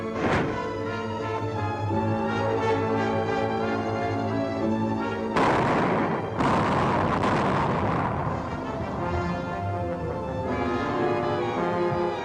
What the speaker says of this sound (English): Nothing but a sound like a tremendous explosion.